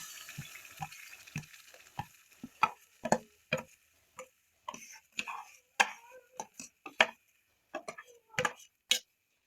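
Green pea paste frying in oil in a wok gives close, irregular pops and spits with short quiet gaps between them, some sharp and loud.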